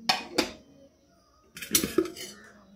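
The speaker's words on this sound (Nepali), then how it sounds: "ठुलो कुकर सफा गर्दै छु" A large metal pressure cooker being cleaned in a kitchen gives sharp clanks and rattles, two quick knocks at first, then a busier cluster of clattering after a short pause, fairly close and moderately loud.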